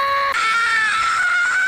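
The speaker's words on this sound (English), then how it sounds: "Let's all scream together." Loud, sustained screaming from human voices on a livestream, one long high wail that jumps in pitch partway through and holds to the end.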